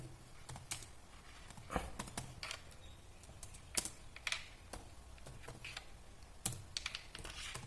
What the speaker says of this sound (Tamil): அதுக்கு முன்னாடி என்ன பண்ணணும்னா நம்ம டெக்ஸ்ட்டை டைப் பண்ணிக்கலாம்